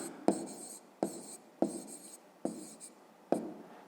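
Pen writing on paper during a fifth-grade maths exercise, five short scratchy strokes at steady intervals, each starting with a sharp tap and trailing off, close and alone.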